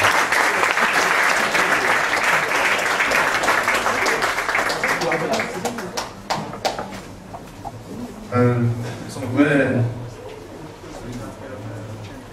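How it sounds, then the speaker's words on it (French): A ceremonial audience breaks into sustained, dense applause that gradually thins into scattered claps, after which a voice speaks briefly over the fading clapping. "nous allons l'applaudir pour une dernière fois"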